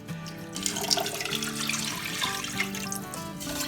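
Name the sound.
water poured into a pot for chicken noodle soup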